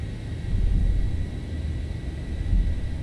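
Boeing 737 engines spooling up to takeoff thrust, a deep steady rumble and roar swelling in low waves, heard from inside the cockpit.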